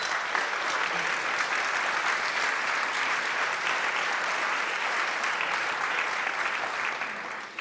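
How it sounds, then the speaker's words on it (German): Steady, dense applause from a literary reading audience for author Christoph Peters at a Frankfurt book fair event, sustained and even throughout before tapering slightly at the end. "Nochmal einen herzlichen Applaus für Christoph Peters."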